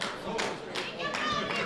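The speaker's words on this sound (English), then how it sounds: "Crowd clapping him on." Spectators at the World Equipped Bench Press Championships 2018, open men's 120 kg class, clap in a steady rhythmic beat to urge on a lifter, about four even claps, moderately distant under low crowd murmur.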